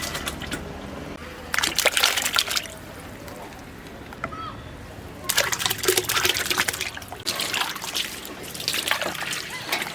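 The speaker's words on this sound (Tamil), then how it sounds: "வெட்டி வச்ச எலும்பை நல்லா கழுவி எடுத்துக்கலாம்." Cut beef bones being washed in water in a kitchen, bursts of sloshing and splashing that come and go in three main rounds, close and fairly loud, with speech in the background.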